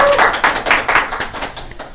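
A brief burst of hand clapping from a lecture audience, a scattered handful of claps fading out over two seconds rather than a full roaring ovation.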